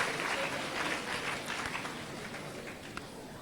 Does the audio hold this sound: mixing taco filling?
no